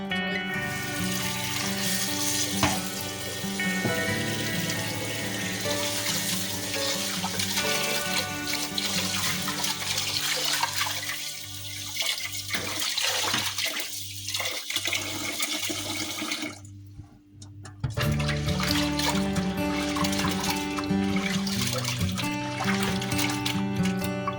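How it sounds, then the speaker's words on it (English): Running water pours and splashes steadily as rice is washed for Jamaican-style rice porridge with coconut milk, close and continuous, with a brief dip and then a renewed flow. "I'm gonna wash my rice"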